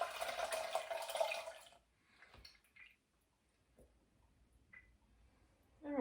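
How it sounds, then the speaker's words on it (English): Cereal milk ice cream mixture pours into a bag for a no-machine ice cream batch: a steady liquid splash for under two seconds, then near silence with a few faint handling clicks. "I'm just gonna pour this into my bag."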